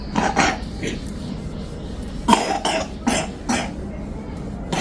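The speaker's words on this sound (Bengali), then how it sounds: "কাশি হচ্ছে" A few sharp coughs at uneven intervals, close and fairly loud, with quiet background noise between them.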